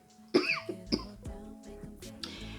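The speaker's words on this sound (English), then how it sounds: "Let me explain why I keep coughing" A few close coughs and throat-clearing bursts, irregular and fairly soft, with quiet pauses between them.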